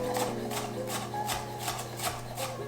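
A knife finely chops red onions on a cutting board, giving a steady series of soft, quick close taps at an even rhythm, with a low constant hum underneath.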